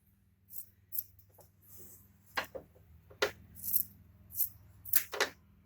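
Scissors trimming excess fabric from a sewn cloth safety mask, a series of sharp, short snips at an irregular pace, close and fairly quiet over a low steady hum.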